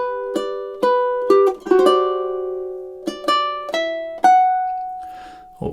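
A ukulele plays a short chord progression, with plucked chords and single notes ringing out clearly and alone, the last note sustaining.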